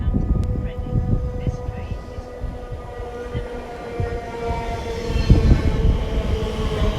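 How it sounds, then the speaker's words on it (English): A TfL Rail train runs at Ealing Broadway on the Great Western Main Line with a rumbling, rattling pass and steady low mechanical drone, growing louder toward the end. Someone talks over it. "1551 TfL rail service to Reading, calling at Southall, Hayes and Harlington, West Drayton, Ivor, Langley"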